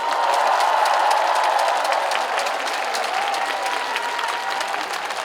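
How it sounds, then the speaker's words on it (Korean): A large crowd claps loudly at a national Farmers' Day ceremony in Wonju, Korea, a dense, sustained wave of applause that tapers slightly toward the end, with a faint voice carrying over it. "더 큰 박수를 보내주셔야 됩니다"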